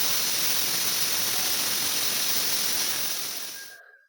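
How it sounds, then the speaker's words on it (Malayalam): A pressure cooker whistles, releasing a loud, continuous jet of hissing steam that holds steady for several seconds, then tapers off and cuts to silence near the end. "നമ്മുടെ കുക്കറിൻ്റെ വിസിലൊക്കെ വന്നു തുടങ്ങി"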